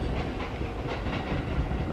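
A 5-car electric multiple unit train passes in Mishima, Japan, a steady, loud rumble of wheels on rail with faint clickety-clack running throughout.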